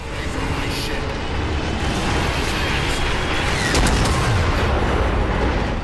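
MAC cannon fire in Halo 4, heard as a loud, constant roar of heavy weapons and blasts with a stronger surge near the middle, mixed with game noise and talk.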